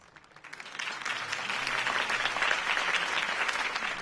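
Applause from a crowd swells quickly and holds steady, dense clapping filling the space, with no voices standing out, in the Telltale Batman video game.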